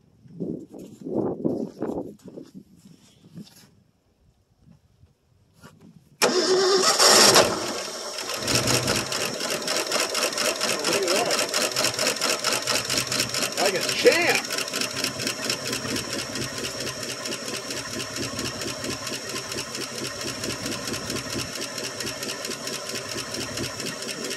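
A 1965 Ford Fairlane 289 V8, unrun for about three years, cranks and catches after a few quiet seconds, then idles steadily with a rapid lifter-ticking clatter before oil pressure builds, loud and close.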